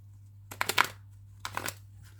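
Tarot cards are shuffled and drawn in two short, soft papery bursts, close by, with quiet between them.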